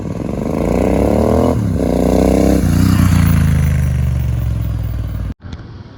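A Royal Enfield Interceptor 650 with an upgraded exhaust passes by loud and close, its engine roar rising and then dropping in pitch as it goes past, cutting off abruptly at the end.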